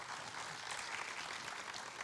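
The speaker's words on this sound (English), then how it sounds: "Round of applause for" A small audience applauds at a book signing, a soft, steady wash of clapping that sounds fairly distant and continues without a break throughout.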